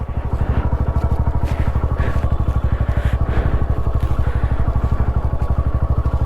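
A motorcycle on an offroad trail near Kanakpura runs with a fast, even engine pulse and a metallic rattling jingle over it, loud and close throughout with no voices.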